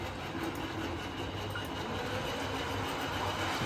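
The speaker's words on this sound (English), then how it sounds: "Increase speed on Cheshire a little bit, and she can rumble round" A model railway locomotive rumbles steadily around its layout pulling a small train of coaches, a continuous close mechanical running noise with faint rail clatter and no talk.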